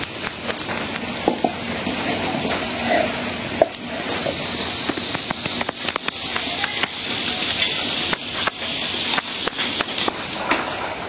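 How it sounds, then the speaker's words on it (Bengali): Mung lentils are washed in water in a home kitchen, heard as irregular splashing and swishing with scattered clicks and knocks of a vessel, fairly close, with no clear speech. "ডাল ধুয়ে নিচ্ছি, ডালটা দিয়ে দিই।"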